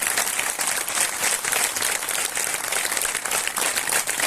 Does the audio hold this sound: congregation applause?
yes